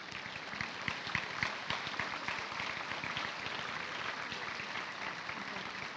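Audience applause for graduates at a University of London presentation ceremony: sustained, dense clapping from a large hall crowd, moderately loud and even throughout with no talking.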